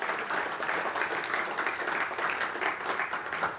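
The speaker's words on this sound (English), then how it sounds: "Warm applause." Warm applause from the audience at the close of a games and art track talk, a steady, dense clapping that holds evenly throughout without voices over it.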